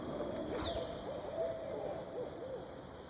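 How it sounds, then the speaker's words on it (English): A distant owl hoots repeatedly from trees in an autumn woodland, a series of soft, evenly spaced calls carried over a steady outdoor background hum. "One owl's in those trees up yonder, but pretty far away."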